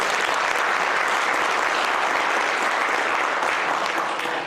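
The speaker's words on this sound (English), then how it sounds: "Please give them a big applause." Steady, dense applause fills a hall as an audience claps for child dancers at a World Uyghur Congress 20th anniversary commemoration, a continuous loud wash of many hands with no talking over it.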